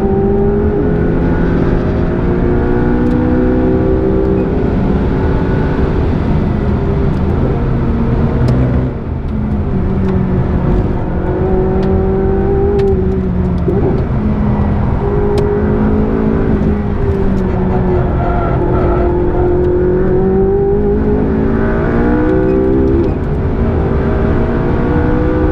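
A McLaren 675LT roars on a race track, its engine loud and close throughout, rising and falling in pitch through repeated hard accelerations and gear changes.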